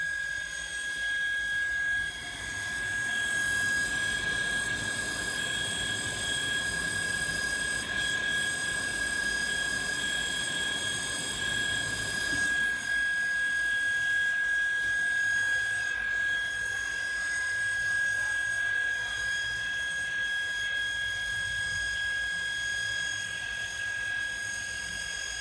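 A Kirloskar Chhotu 0.5 HP mini domestic water pump runs steadily with a continuous motor hum and a sharp high whine, loud and unbroken, with no voices.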